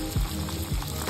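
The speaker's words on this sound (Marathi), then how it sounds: "त्यासाठी आपण हा कांदा फ्राय करून घेणार आहोत" Onion frying in a pan for a drumstick curry, a soft steady sizzle with two low stirring thumps, fairly quiet and close, with no talk.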